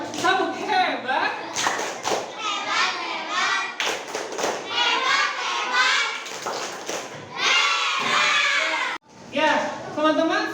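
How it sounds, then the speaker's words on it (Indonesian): Schoolchildren in an Indonesian classroom doing a rhythmic clapping cheer for a group, patterned claps and thumps mixed with loud children's voices chanting together, with a brief break near the end. "Kasih tepuk hebat untuk kelompok 6. Tepuk hebat."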